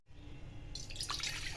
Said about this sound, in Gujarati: 1 ગ્લાસ પાણી એડ કરીશું।